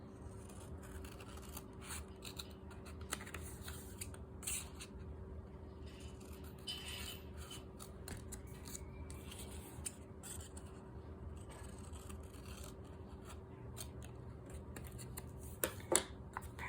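Quiet scissors cut through folded paper into equal parts, producing faint, irregular snips and rubbing scrapes over a soft steady background hum.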